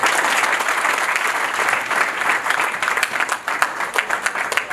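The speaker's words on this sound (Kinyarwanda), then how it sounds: "please give it up kuri Ange na Fabien mumpera amashyi" Enthusiastic applause for a couple at a sixth wedding anniversary party in Houston, Texas, with a crowd clapping loudly and continuously, dense and close, easing slightly toward the end.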